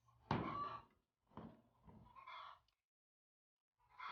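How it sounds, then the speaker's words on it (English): Chickens cluck in a few short, separate bursts, fairly faint and distant, with quiet gaps between them. "Chickens are busy laying eggs in the background."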